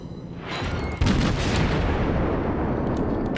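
German cruiser Nurnberg's naval guns fire in World of Warships, a heavy booming salvo that hits hard and rolls on in a long rumbling decay.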